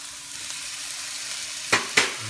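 Garlic frying in a pan with already cooked onions, with a steady low sizzle and two sharper bursts of sizzling or stirring near the end. No talking.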